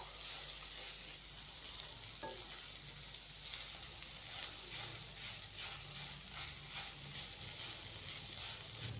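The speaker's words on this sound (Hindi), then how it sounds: "3 से 4 मिनट के लिए चिकन को भी हम अच्छी तरह इन मसालों के अंदर फ्राई कर लेंगे" Chicken fries in spices in a pan with a dense, constant close sizzle and occasional stirring scrapes, no voices.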